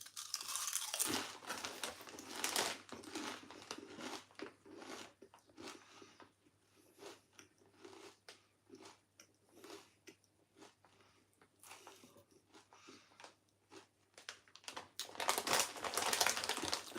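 Thick, crunchy Mackie's crisps being chewed close up, with loud bursts of crunching at the start and end and softer irregular munching in between.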